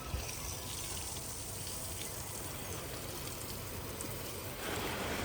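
Water pours and splashes steadily into a clay bird-water pot, a continuous gushing stream that stays fairly even throughout.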